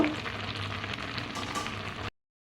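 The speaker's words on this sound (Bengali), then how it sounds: "ভাবানো সিদ্ধ হয়ে গেছে এবার আমি জলটা ঝরিয়ে নেব" Hot water drains off boiled taro stems, giving a steady, dense splashing and hiss close by. It carries on evenly for about two seconds, then cuts off abruptly into silence.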